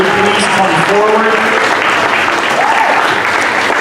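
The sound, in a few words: round of applause at school assembly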